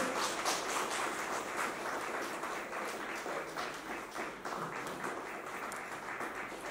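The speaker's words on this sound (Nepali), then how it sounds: "ताली बजाएर पुनः स्वागत गर्न अनुरोध गर्दछु" A crowd at a political rally in Butwal clapping steadily to welcome people being honoured, a dense, sustained wash of applause from many hands lasting throughout.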